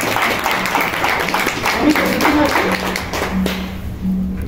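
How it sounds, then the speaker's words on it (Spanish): Scattered applause at a family birthday party, with light hand claps tapping along under lively talk and voices throughout. "aplausos."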